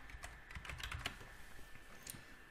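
Typing an email address on a computer keyboard, a quick run of soft, close key clicks with a brief pause and a few final taps, no speech.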